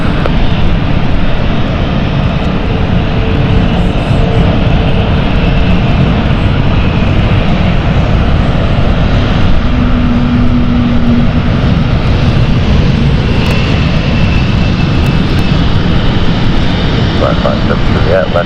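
A fixed-wing airplane lands at London City Airport, a loud continuous engine roar throughout with a faint tonal whine, while a voice talks over it.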